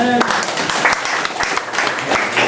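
Church congregation applauding during a prophetic deliverance service, a dense steady wash of many hands clapping with broadband bursts, with voices mixed in underneath.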